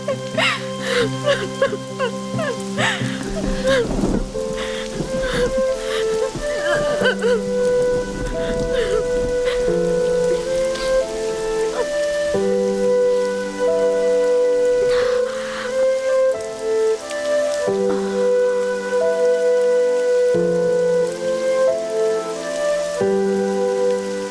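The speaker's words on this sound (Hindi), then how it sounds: "बारिश हो रही है बेटा।" Heavy rain pours steadily in a dubbed movie scene, a continuous hiss running under a prominent sustained musical score for the whole stretch.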